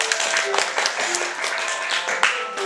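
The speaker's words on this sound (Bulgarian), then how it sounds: "Аплодисменти." Applause from an audience after a children's song performance, a steady dense wash of clapping filling the whole stretch, with a voice briefly audible over it.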